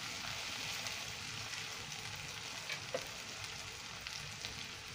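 Potatoes and fenugreek leaves with green chili paste frying in a pan, a steady, fairly quiet sizzle throughout with faint stirring touches and no talk.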